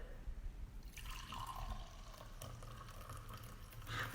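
Liquid pours from a pitcher into a glass, a soft gurgling stream that starts after a brief pause and runs quietly to the end.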